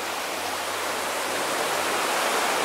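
The Tad Yueang waterfall in southern Laos roars as a dense, unbroken hiss of falling water, loud and even from start to finish, with no voices.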